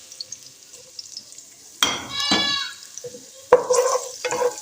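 Garlic hits hot oil with cumin seeds in a pan for an aloo methi palak vegetable dish, crackling in two sharp sizzling bursts with scraping stirs between, close and loud, no talking.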